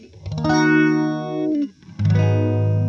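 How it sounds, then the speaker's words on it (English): Sustained electric guitar chords with a slow sweeping phaser swirl from an Electro Harmonix phaser, strummed loud with a brief dip before the next chord rings out. "We're on the Electro Harmonix EH4800 for the phaser"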